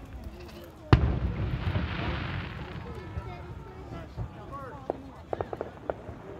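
Flashbang firework at an outdoor Victoria Day fireworks show in Peterborough, Ontario, going off with one sharp loud bang followed by a crackling hiss that fades, then a few distant pops, while people talk nearby.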